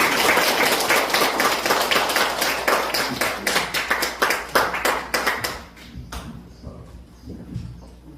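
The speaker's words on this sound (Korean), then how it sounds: "하나님께 영광의 박수 한번 드리겠습니다" Congregation clapping in a Korean church service in praise of God, a dense, even round of claps that grows sparser and softer toward the end before dying out.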